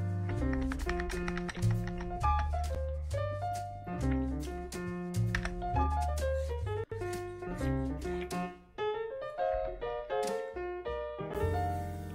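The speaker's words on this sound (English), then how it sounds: "You can probably hear my typing a lot more than you can hear my actual voice." Rapid, uneven clicking of computer keys, loud and close, running throughout over a steady tonal background with no voice heard.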